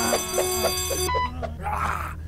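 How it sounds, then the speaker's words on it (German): An alarm system sounds in the video game The Long Reach, a loud electronic beeping in a quick regular pulse that cuts off, leaving muffled game noises and a low hum. "Hier ist eine Alarmanlage."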